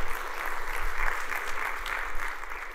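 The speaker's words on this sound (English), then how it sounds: "Give Michael a round of applause spending time with me on the phone." Conference audience giving a round of applause, a dense, steady wash of many hands clapping that holds throughout with no talk over it.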